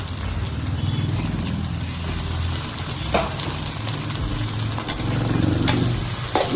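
Onion, tomato and capsicum sautéing in a pan for restaurant-style egg Manchurian, a steady close sizzle and crackle with a few soft stirring clicks throughout.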